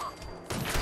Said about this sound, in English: Did you just shoot me?